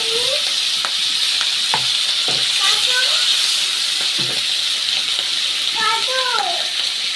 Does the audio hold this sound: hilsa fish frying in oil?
yes